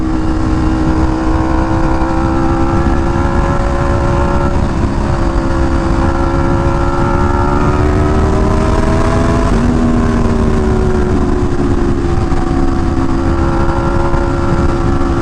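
A motorcycle engine hums steadily while riding, its pitch rising and falling gently with throttle changes over continuous wind noise, close and loud with no talking.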